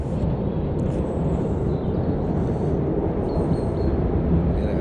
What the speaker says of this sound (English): You can hear the train, you see that coming over?